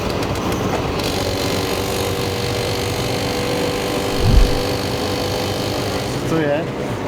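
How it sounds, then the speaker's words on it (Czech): A train crossing a single-track railway bridge toward Venice, heard as a steady rolling rumble with a brief louder thump partway through, under faint background noise. "Vlak na jedné koleji."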